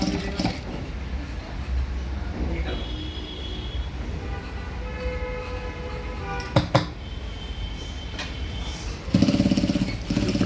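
A sewing machine runs top-stitching along blouse fabric for a prince-cut blouse, giving a steady, close motor whir with a couple of brief knocks partway through and a louder burst of stitching near the end.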